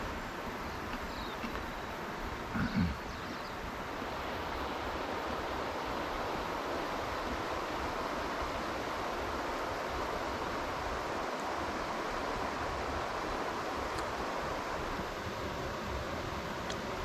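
River flowing below a lookout in Pureora Forest Park, New Zealand, a steady broadband rush of water continuing evenly throughout with a brief knock near the start.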